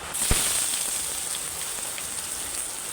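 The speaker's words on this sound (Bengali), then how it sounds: "পেঁয়াজটা আমার লাল লাল করে ভাজা হয়ে গেছে" Chopped onion fries in hot oil with bay leaves and chili for a leafy greens curry, giving a steady, close sizzle with a sharp crackle near the start and no voices.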